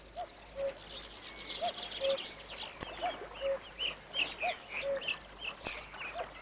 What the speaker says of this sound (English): Sedge warblers chatter noisily as they declare their territories.